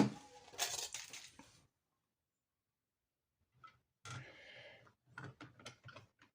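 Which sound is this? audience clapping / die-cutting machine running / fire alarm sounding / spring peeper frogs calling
die-cutting machine running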